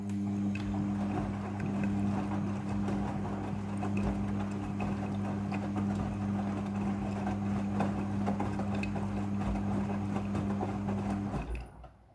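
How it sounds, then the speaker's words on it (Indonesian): An automatic washing machine fills with water for its second rinse, giving a steady close hum with rushing flow that runs for about eleven seconds before cutting off abruptly. "Setelah proses pemerasan selesai, masuk ke proses pembilasan air yang kedua."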